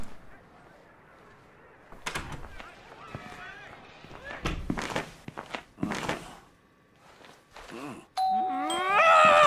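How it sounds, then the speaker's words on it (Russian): Doorbell chiming in a stealth escape video game about a runaway schoolboy, a bright ringing tone near the end rising over clattering footsteps, thuds and voices. "Дверной звонок издевается."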